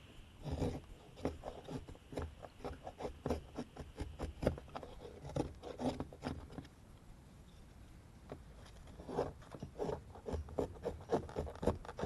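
Rhythmic scraping strokes of a blade shaving a high spot off a hazel bow drill fire board, close and fairly quiet, in bursts with a short pause midway.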